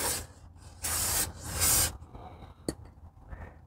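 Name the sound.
aerosol brake cleaner spraying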